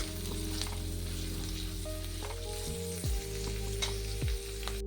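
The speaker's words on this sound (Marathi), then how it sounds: "कांदा टाकून छान असं लालसर परतून घ्यायचं" Onion sizzling and frying in oil in a pan while being stirred, with steady close hiss and occasional scraping stirs, no voices.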